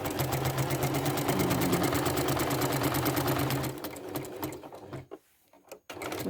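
A sewing machine stitches rapidly and steadily while quilting across a pieced block, a close, even mechanical whirr that slows and stops near the end, leaving brief quiet before a faint restart.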